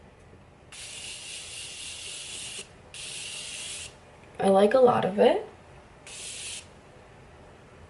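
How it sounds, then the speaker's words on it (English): Morphe setting spray misted onto a face in four short bursts, soft close hissing puffs separated by pauses, with someone briefly talking between the sprays. "So I'm going to use the Morphe setting spray."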